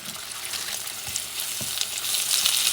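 Meat sizzles in butter in a pan for taco night, a bright, steady hiss with faint crackles that swells slightly louder toward the end.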